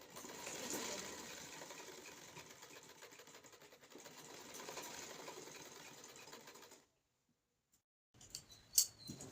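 A sewing machine stitches lace onto cloth in a steady close whirring run for about seven seconds, then stops; after a pause come a few faint clicks and handling knocks.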